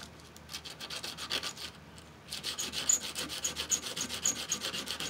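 A fuse block on a Kenwood KX-W4070 tape deck sanded before soldering, a rapid, regular back-and-forth rasping with a brief pause partway through, close and fairly loud.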